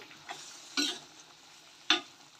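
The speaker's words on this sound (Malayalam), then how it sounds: "ഇടയ്ക്കൊന്ന് നമ്മൾ ഇതുപോലെ ഒന്ന് ഇളക്കി കൊടുക്കണം" Chintamani chicken cooking in a pan, with a faint sizzle under two brief scraping stir strokes, close by.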